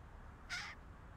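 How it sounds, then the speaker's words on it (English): A single crow caw in a park, one short harsh call rising briefly over quiet background hum. "So those are just regular caws uh, communicating certainly some excitement"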